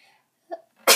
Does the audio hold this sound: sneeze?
yes